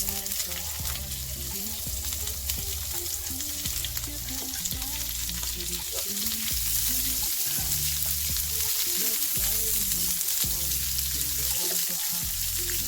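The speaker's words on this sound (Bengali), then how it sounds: "তেলের মধ্যে দিয়ে দেবো পেঁয়াজ আর ক্যাপসিকাম।" Onion and capsicum frying in hot oil in a pan make a steady, loud sizzle, with stirring noises throughout and low background sounds.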